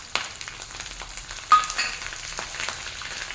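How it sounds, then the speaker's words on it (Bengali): Spices crackle and pop in hot oil while frying egg curry base, with a steady sizzle and scattered sharp snaps, one louder pop midway. "এবার একটু ভালো মতো ভাজা হয়ে গেছে, দেখুন ফটফট আওয়াজ হচ্ছে"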